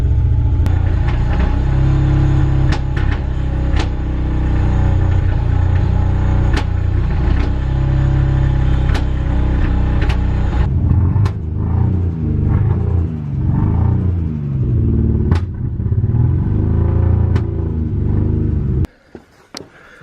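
A Nissan Cefiro A31 with a sick RB20 engine runs in second gear while raised on axle stands, giving a loud, close, steady rumble that changes tone partway through before cutting off near the end.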